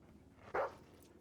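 A dog in the video game GTA V gives a single short bark, mid-loud and alone over a quiet low background rumble.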